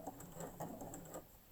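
A sewing machine runs at close range, stitching over pleat folds on a fabric mask with a soft, quick rhythmic patter in short bursts.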